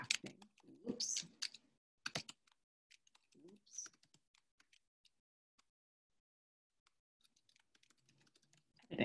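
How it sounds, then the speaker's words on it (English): Bursts of quick clicking keystrokes on a computer keyboard, close and fairly quiet, separated by short pauses and a near-silent gap before typing resumes. "I can't type this early in the morning, clearly."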